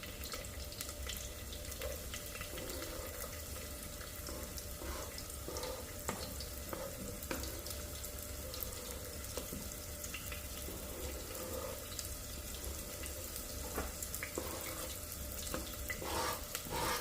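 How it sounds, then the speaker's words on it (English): Hot oil for carnitas popping and hissing in a pan, a steady dense sizzle with faint crackles throughout, close and moderately quiet. "Sound like she's popping now."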